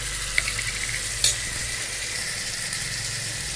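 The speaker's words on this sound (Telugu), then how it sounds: "టమాటాలు వేసుకొని కలబెట్టండి" Tomatoes with turmeric stirred in a hot frying pan, a constant close sizzle with a couple of brief spoon scrapes against the pan.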